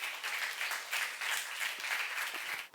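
Dense, steady applause from a church youth congregation, many hands clapping together close by for a few seconds, with no voice over it.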